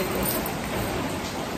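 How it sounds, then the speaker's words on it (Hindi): Heavy rain falls in a dense, even hiss of countless drops, a brief loud stretch with no voices over it. "अच्छी बारिश पड़ रही है"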